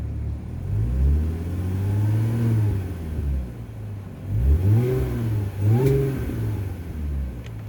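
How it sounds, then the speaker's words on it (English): A 2015 Audi S4 engine is revved while parked, two or three rising and falling exhaust blips with a deep rumble between, close and loud with no talking. "I'm just gonna rev it."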